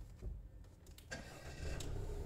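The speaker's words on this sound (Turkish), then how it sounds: "Arabamızı çalışsın hatta." A Fiat Ducato caravan with automatic transmission starting up: a brief cranking burst, then the engine catches and settles into a low, steady rumble, heard close and fairly quiet.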